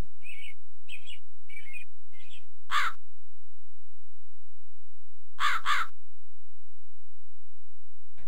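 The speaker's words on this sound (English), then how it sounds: "Watch out for those crows." Crows cawing in the 1998 My Little Pony Friendship Gardens video game: a run of four short caws, then two louder close caws a few seconds later, with no talk.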